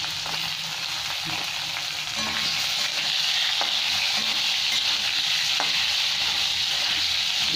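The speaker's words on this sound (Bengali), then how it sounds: "একটু ভালো ভাজা হবে" Potatoes and small halved eggplants fry in a pan with black cumin seed, a steady loud sizzle broken by occasional scrapes and clinks of a stirring utensil; no one speaks.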